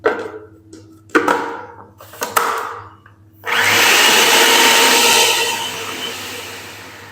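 An electric chopper whirs in a steady, loud burst for several seconds while blending chopped onion with potatoes, after a few short knocks and pulses at the start.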